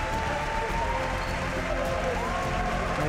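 A large arena crowd claps and cheers steadily after a wushu duilian performance at the 2015 World Wushu Championships, a dense, continuous wash of applause with a faint commentator's voice beneath.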